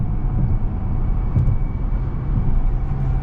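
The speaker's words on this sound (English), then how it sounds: "the way the engine lets off when you let off the gas" Steady engine and road drone from inside a 2022 BMW 750i cruising at night as the driver lifts off the gas, a continuous low rumble with no distinct pops or changes.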